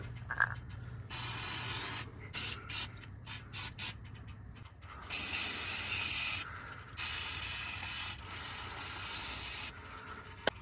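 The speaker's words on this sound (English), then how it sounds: "I've got some penetrating oil." Penetrating oil sprayed from an aerosol can onto a Mitsubishi Montero/Pajero transmission selector switch, heard as a series of close hissing bursts, several short quick puffs between longer sustained sprays, with faint mechanical handling noises between.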